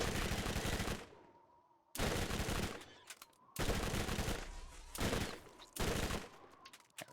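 Loud, dense explosions and gunfire in the video game Borderlands, arriving in repeated heavy bursts about every second with short decaying gaps between them, and no voice over them.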